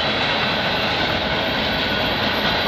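A CN freight train passes close and loud at Mile 32 on the Oakville Subdivision, led by a GTW GP38 third engine and a Kansas City Southern fourth unit, a continuous roar with no talk.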